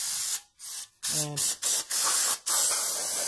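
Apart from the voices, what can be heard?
spraying brake cleaner from an aerosol can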